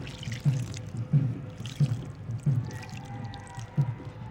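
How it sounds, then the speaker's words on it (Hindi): Aloe vera water poured onto soil packed in a cardboard box for growing winter vegetables, giving soft, low glugging splashes that recur about every half second to second, close and without talk. "ये एलोवेरा का पानी डाल दिया मैं।"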